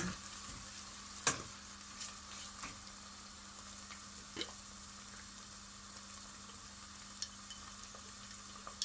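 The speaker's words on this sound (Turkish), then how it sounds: "Salça iyice kavuruyorum." Tomato paste frying in a pan while being stirred, a steady soft sizzle throughout with a few faint clicks and taps from stirring, no talking.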